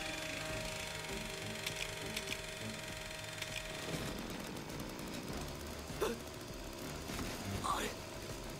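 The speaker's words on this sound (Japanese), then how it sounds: "エンジン始動。" A rescue-squad engine in the video game Megumi no Daigo: Kyuukoku no Orange cranks and catches midway, a rough rattling mechanical rumble with sharp knocks rising over a steady background hum.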